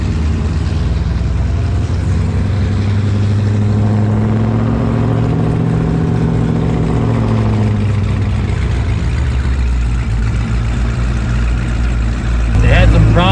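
Loud, close engine roar of a twin-turbo Cadillac CTS-V racing a Trackhawk at a drag strip, rising in pitch as it accelerates, then settling into a steady drone.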